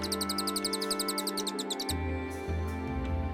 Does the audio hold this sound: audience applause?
no